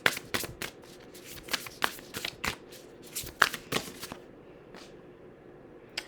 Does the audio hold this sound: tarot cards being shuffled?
yes